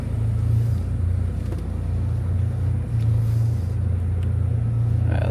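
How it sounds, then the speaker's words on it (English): BMW G20 engine and exhaust echoing steadily inside a parking garage, a continuous low rumble with a few faint crackling pops, heard alone. "Wow, the G20 sounds so good in the parking garage."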